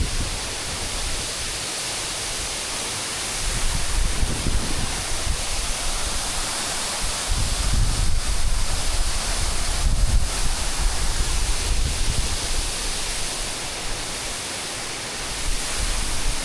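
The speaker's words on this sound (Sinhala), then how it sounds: "මේ තමයි ලස්සනම ලස්සන දිය ඇල්ල" Kolapathana waterfall at Mandaram Nuwara sends up a steady, broad roar of rushing water that swells slightly in the middle and holds without pause, with some wind buffeting the microphone.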